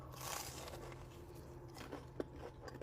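Crunchy fried tofu dimsum being bitten, giving a quiet close crunch with a small crackle near the end.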